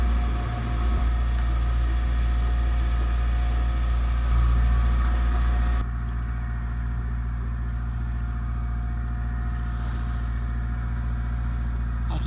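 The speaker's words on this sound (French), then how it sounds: "Après 4 heures de navigation au moteur," A sailboat motoring under engine power in windless conditions among the Greek Dodecanese islands, a steady low engine drone running throughout with a slight shift in tone midway.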